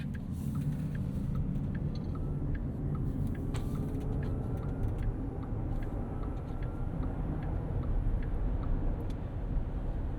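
A 2024 Porsche Cayenne E-Hybrid SUV pulls away on electric power, a steady low rumble of road and motor noise that stays even and close throughout, with no voices over it.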